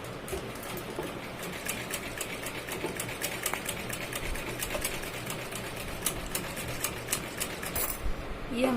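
A sewing machine stitches piping onto a blouse, a fast steady needle clatter running continuously at close range, with someone talking over it.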